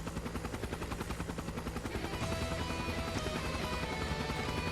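The Pale Apache, a flying archaism in the video game Trails of Cold Steel 3, gives a loud, rapid rhythmic rotor-like thudding that swells into a dense, continuous mechanical roar.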